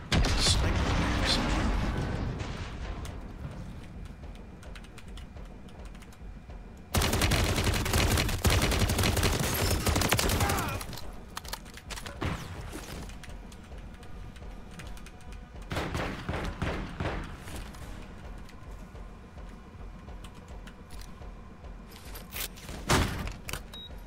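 Gunfire in Call of Duty Modern Warfare II rattles in loud, dense bursts of rapid shots with booms and impacts, coming in long heavy stretches separated by quieter gaps and a few sharp isolated blasts.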